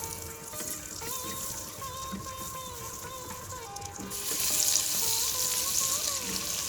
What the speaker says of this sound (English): here in our frying pan, we need to melt these 3 tablespoons of butter